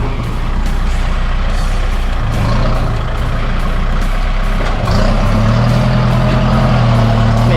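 An L47 tractor pulls a 26-inch disc plough through wet ground, its diesel engine droning loud and close throughout, with the pitch rising as it labours.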